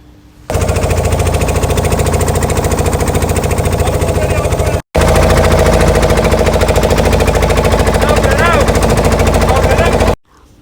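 Loud, steady boat engine roar heard from a seat beside the driver at the helm, a continuous rattling drone that cuts out briefly midway and then resumes at full strength.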